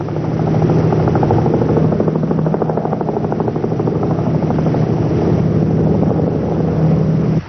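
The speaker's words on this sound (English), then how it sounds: "Sometimes a police helicopter will be sent out to try and locate the criminals from the air." A police helicopter's rotor thumps in a fast, steady rhythm with an engine drone, loud and close throughout.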